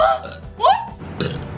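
A person burps a few times in quick succession at close range during a seafood meal, with a rising voiced gulp in the middle, amid casual voices talking.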